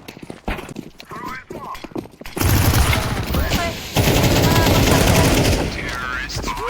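Video game machine gun fire: rapid bursts of automatic gunfire rattle loudly and close, following a stretch of sparse clattering shots, with a voice talking beneath the din.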